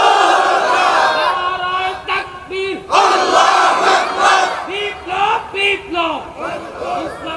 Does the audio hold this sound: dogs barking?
no